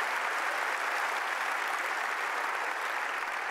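An audience applauding, a steady dense wash of clapping that holds at an even level throughout, with no speech over it.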